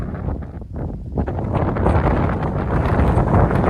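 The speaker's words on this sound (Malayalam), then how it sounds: "വളരെ ശക്തമായിട്ടുള്ള കാറ്റാണ്." Very strong wind buffets the microphone on an exposed rocky hilltop, a loud, continuous roaring rush with gusty swells and no voices.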